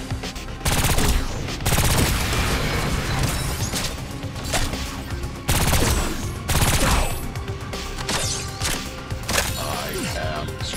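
Dense bursts of automatic gunfire in the video game Agents of Mayhem, loud and close, with rapid rattling volleys and impacts filling the whole stretch and a short break partway through.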